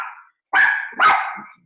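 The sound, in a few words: female dog barking at home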